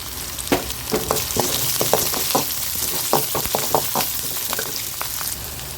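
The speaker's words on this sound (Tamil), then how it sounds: "வதங்கட்டும் பாருங்கள் வெங்காயம் ஓரளவுக்கு நல்லா வதங்கிட்டு" Onions sauté in oil for a village-style okra and tamarind curry, sizzling steadily while a spoon scrapes and taps the pan in uneven strokes, close up and with no speech.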